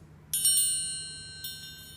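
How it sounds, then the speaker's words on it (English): Small metal bells from a Renaissance festival ring out in two close, bright jingles, the first ringing on and slowly fading before a second lighter strike. "At another place, I got these bells."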